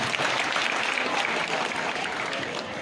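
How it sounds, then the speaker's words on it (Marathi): Steady, dense audience applause fills a Marathi ceremony honoring a legislator during a devotional week-long chanting event, continuous and loud throughout with no breaks. "जोरदार टाळ्या झाल्या पाहिजे बरं का तुले सगळे."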